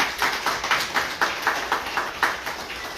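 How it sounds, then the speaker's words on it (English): A crowd applauds Ramona at a community gathering: steady, fairly close clapping from many hands, rising and falling in rhythmic waves for a few seconds, with no talking over it. "can we just give a round of applause for Ramona?"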